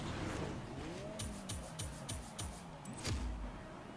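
A car engine in the Forza Horizon 3 racing game, revving and shifting through repeated rising pitch sweeps, with tire noise and bursts of skidding, loud and close.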